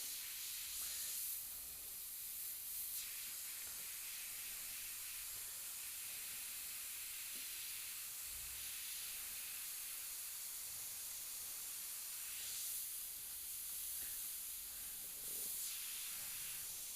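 An airbrush sprays paint in soft, airy hissing bursts, a few louder puffs at the start and near the end over a faint continuous hiss, close and quiet with no talking.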